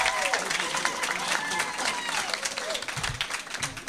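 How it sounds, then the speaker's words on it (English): An audience applauds to welcome a comedian at a celebration-of-life event, with dense, sustained clapping from the crowd for several seconds. "Please begin that round of applause."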